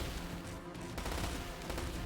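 Strategy video game battle with cannons firing, a dense, continuous barrage of booming shots and impacts overlapping at close range, no voices.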